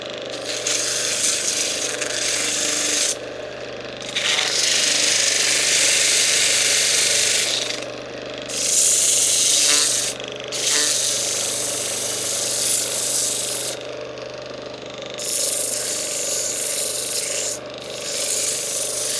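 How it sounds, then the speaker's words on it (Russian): Sandpaper scrubs a freshly turned metal surface on an old Dnepr motorcycle engine's rusty flywheel, making close, abrasive rubbing strokes in bursts of a few seconds separated by short pauses. "Можно немножко подчистить поверхности наждачкой"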